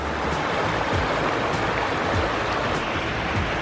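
Steady, loud rush of a forest river flowing continuously, close by, with no voices over the water.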